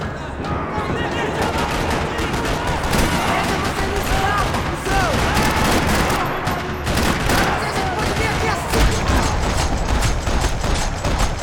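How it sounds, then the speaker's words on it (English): Dense, continuous gunfire in Max Payne 3 rattles throughout a parking lot, overlapping bursts of automatic fire and scattered shots forming a loud, unbroken barrage. "Another parking lot rattling with gunfire"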